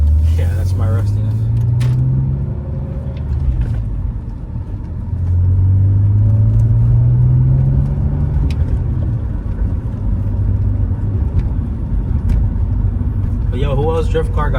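A high-mileage BMW E46's engine hums and rumbles steadily from inside the cabin on back roads, pitch rising and falling with speed, with a few clicks and bumps.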